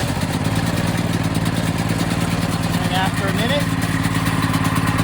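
A portable generator with electric start runs steadily nearby, its loud, even engine drone going without a break while someone talks over it.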